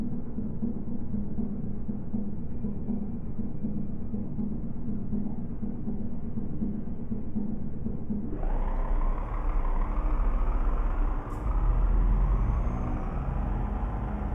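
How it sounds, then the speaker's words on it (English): Truck engine in Euro Truck Simulator 2 droning steadily at idle, then the pitch and loudness jump as it revs up partway through, with a brief hiss near the end and no talking. "Yeah, I say it's not the best sounding truck in the world."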